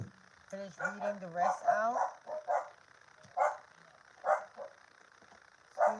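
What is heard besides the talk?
dogs barking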